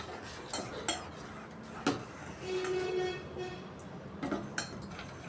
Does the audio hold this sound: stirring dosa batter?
yes